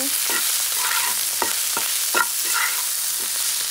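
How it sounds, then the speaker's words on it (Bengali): Bitter gourd frying in a pan with steady broadband sizzle, punctuated by a regular series of short scraping stir strokes roughly every half second, close and fairly loud with no talking. "উস্তা ভাজি করতেছি"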